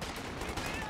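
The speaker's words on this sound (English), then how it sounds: "A half track opening fire on the Panzer." Half-track opening fire on a Panzer during a Company of Heroes 2 battle, a dense burst of rapid gunfire over a busy battlefield din, with a commentator's voice partly underneath.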